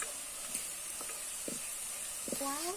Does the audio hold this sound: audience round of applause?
no